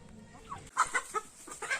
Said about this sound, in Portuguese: Essas galinhas são muito brabas com ela.